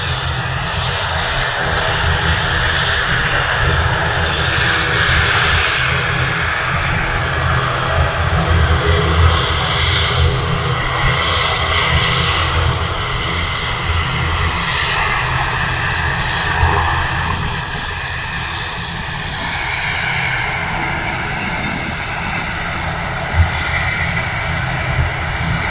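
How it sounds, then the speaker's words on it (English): Light aircraft engine droning continuously at close to moderate distance, a steady propeller hum with slowly shifting pitch over about half a minute. "It is a light aircraft, this one."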